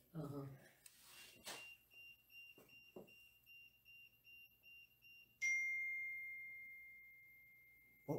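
A bell-like tone rings out in a quiet hall, first as a faint sustained ring, then a sharper strike that decays slowly. Earlier there are brief knocks and a few voices.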